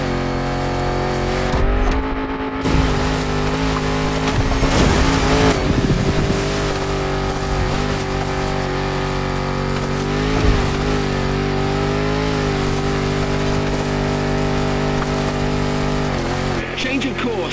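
A 400-horsepower Defender with a 70-year-old body drives in The Crew Motorfest, its engine holding a loud, steady drone that surges and dips as it accelerates, with a voice speaking over it throughout.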